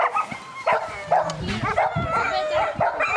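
Several Siberian Huskies bark, yip and whimper in quick overlapping bursts close by, an excited, busy chorus of dogs with people talking over it.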